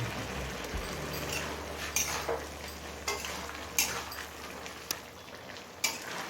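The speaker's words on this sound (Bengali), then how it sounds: "ঢাকা খুলে একটু নাড়াচাড়া করে নিয়েছি।" An egg and vegetable curry gets stirred in a pan after simmering covered on high flame, a soft bubbling hiss broken by a few sharp scrapes and taps of the spoon against the metal, with no talking.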